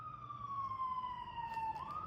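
Emergency siren from an ambulance or fire engine at an accident scene on the M1, a steady wailing tone that holds and then dips and rises again, continuous over ambient road noise.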